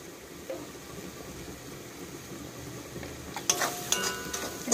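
Spice paste of coriander and red chilli powder with green chillies frying in a pan for a bitter gourd curry, a low steady sizzle that brightens near the end with a few louder stirring clatters.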